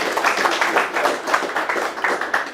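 Audience at a conference clapping: steady applause from many hands, fairly loud and close, holding evenly for a few seconds before easing slightly.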